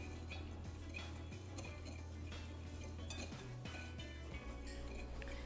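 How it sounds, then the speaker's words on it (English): A utensil stirs baking powder into a flour mixture in a bowl, giving quiet, close clinks and scrapes of metal against the bowl in an uneven rhythm. "adding 1/4 teaspoon of baking powder to the flour mixture, and we'll stir that in"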